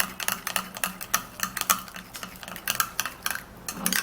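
A spoon stirs an apple cider and turmeric mixture in a bowl, with quick, repeated clinks and scrapes at close range and no talking.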